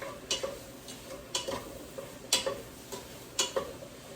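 Spoon stirring seasoned meatballs in a pan, with soft clinks and scrapes every second or so over a faint sizzle, close but quiet.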